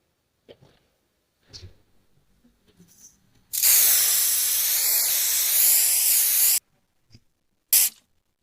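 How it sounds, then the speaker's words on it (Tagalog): Mars contact cleaner sprayed onto an electrical switch: a steady, close hiss of about three seconds after some light handling noises, then one brief final burst. "So, sprayan pa ulit natin."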